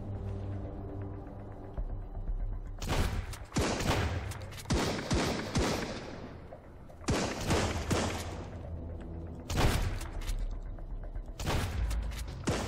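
Repeated bursts of gunfire in the survival game Sunkenland, loud rapid volleys in several clusters separated by brief lulls, with no talk over them.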